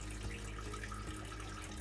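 Hot water runs from a tap in a camper van fitted with a Whale water heating system, a steady, continuous near flow with no talk.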